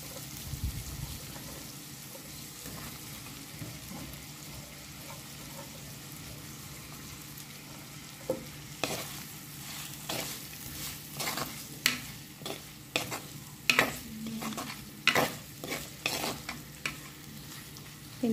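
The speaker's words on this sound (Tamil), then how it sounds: "இந்த ஆனியன்ஸ் நல்லா வதங்கணும்." Onions and curry leaves fry in a pot for Sri Lankan-style biriyani, a quiet steady sizzle that grows busier with clustered clinks and scrapes of stirring in the second half; nobody talks.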